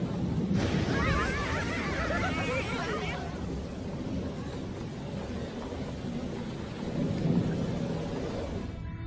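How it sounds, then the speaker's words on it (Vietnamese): Thunder rumbles heavily under steady rain in an animated cartoon scene, a loud, continuous storm wash with a brief voice near the start. "Vừa sấm sét vừa có mưa,"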